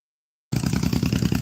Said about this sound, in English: Yeah, that motorcycle, it's something telling me he's just gonna act a fool in a minute.